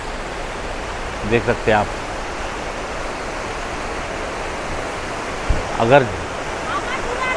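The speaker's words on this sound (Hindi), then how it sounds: "7 स्टोरी से नीचे पानी ऊपर से आ रहा है, देखे you can see it is coming with from 7 stories" Water plunging about seven storeys down a waterfall in Kerala makes a loud, unbroken roar that fills the whole scene, while someone speaks briefly twice over the rush.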